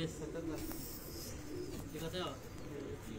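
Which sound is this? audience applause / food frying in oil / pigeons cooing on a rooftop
pigeons cooing on a rooftop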